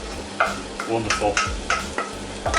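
Minced beef in tomato sauce is stirred around a pan, with several wet scraping strokes in an uneven rhythm over a low simmering sizzle, close and fairly loud.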